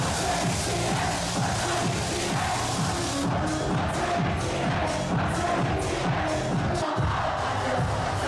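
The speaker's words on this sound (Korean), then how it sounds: "익숙한 K-팝 음악이 흘러나오자 미친 듯한 환호성과 떼창이 이어집니다" A packed downtown Los Angeles club crowd, waving idol lightsticks, roars and sings along as familiar K-pop plays, a dense, continuous wall of cheering voices over pounding music that stays loud throughout.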